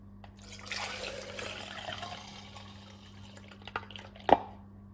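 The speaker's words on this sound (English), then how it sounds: "Finally, I put the coffee into my thermos" Freshly brewed coffee poured through a funnel into a thermos, a steady close liquid gurgle and trickle over a low hum, finishing with a couple of drips and a clunk.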